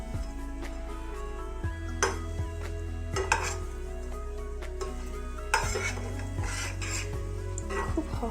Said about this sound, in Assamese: কেৰাহীত অকণমান ৰিফাইন তেল দি দিছোঁ গেছটো ল' ফ্লেমত দি এনেকৈ ভাজিলে হ'ল